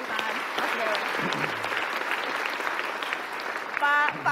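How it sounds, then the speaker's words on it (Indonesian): Studio audience clapping steadily throughout a televised talk show in a hall, dense and sustained applause with a brief vocal sound near the end. "Saya kasih tepuk tangan, Mas Dewa."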